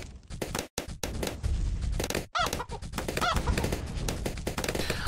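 Chickens cluck and honk in the Bloons TD 6 video game. The loud, dense fowl calls run continuously and close up, broken only by a couple of brief gaps.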